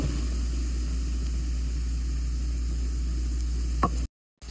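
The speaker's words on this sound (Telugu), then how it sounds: "చికెన్ పీసెస్ అలానే జింజర్ గార్లిక్ పేస్ట్ మంచిగా ఫ్రై అయిపోయాయి" Chicken pieces frying with ginger garlic paste in a pan, a steady close sizzle running without pause beneath a low constant hum, then cutting out abruptly near the end.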